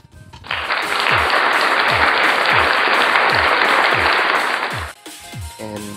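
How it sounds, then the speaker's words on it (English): A burst of crowd applause plays through a V8 sound card as a vlogging sound effect, dense steady clapping for about four seconds before cutting off, with a few soft thumps underneath. "Clap naman dyan."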